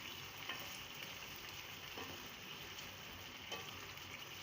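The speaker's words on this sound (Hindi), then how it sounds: "चमचा थोड़ा आहिस्ता से चलाना है क्योंकि भिंडी हमने भून ली है।" Fried okra masala sizzles steadily in a pan as a spoon gently stirs it. The soft, continuous frying hiss is broken by a few faint scrapes, quiet and close.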